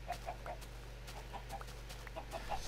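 Chickens clucking on a Minecraft chicken farm, several short clucks scattered in an irregular rhythm over a steady low hum, fairly faint and close, with no talk.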